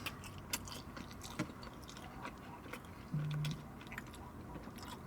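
A Five Guys cheeseburger is bitten and chewed up close, with soft, moist crunching and squishy mouth sounds at a low level and a few sharper bite clicks.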